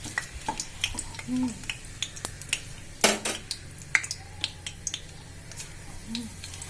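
A bay leaf drops into hot mustard oil in a pan for an Assamese chicken curry. It gives a faint, soft sizzle under scattered sharp clinks and taps of utensils, with no talking.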